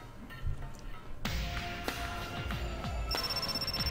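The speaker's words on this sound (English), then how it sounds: "my cell phone rang" A cell phone rings in a visual novel video game, an electronic ringtone sounding in repeated tonal bursts over a steady background, with a bright high tone entering near the end.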